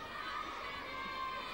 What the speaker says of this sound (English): Plenty of cheers from the crowd there